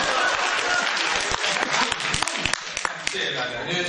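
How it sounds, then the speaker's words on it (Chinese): Theatre audience clapping at a live crosstalk comedy show, a ragged burst of applause with sharp individual claps, mixed with performers talking over it close by. "可以鼓掌"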